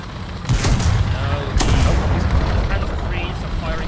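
Panzer III tank guns firing in a tank battle game: two heavy booming cannon shots about a second apart, then rumbling battle noise, with a voice talking faintly underneath.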